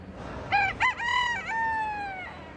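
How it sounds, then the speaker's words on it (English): A rooster crows loudly and close at the New York State Fair poultry barn, one long stretched cock-a-doodle-doo after a couple of short clucks, standing out clearly over a quiet background. "And here we find rows and rows of hens, ducks,"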